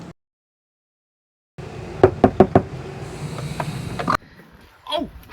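Knocking on an RV door: after a brief silence, a quick run of four or five sharp knocks, followed by shuffling and faint movement nearby.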